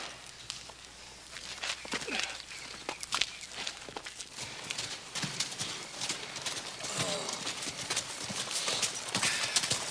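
Hooves clip-clop at a walking pace on hard ground, a steady uneven rhythm close by, with voices talking over it.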